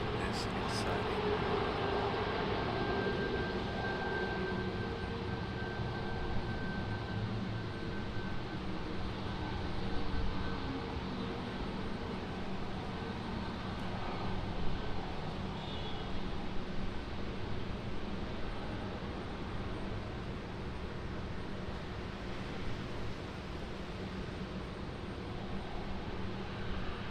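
An airliner lands at Raleigh Durham airport, heard as a long broad roar of jet engines and rushing air, steady and distant with slight swells, while someone talks over it.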